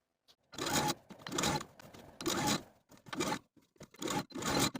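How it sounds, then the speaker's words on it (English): A sewing machine edge stitches along a blouse neckline seam, close beside the serged stitches. It runs in five short, close bursts of stitching separated by brief pauses, with no voices. "edge stitch all the way across close to my serging stitches from center back to center back"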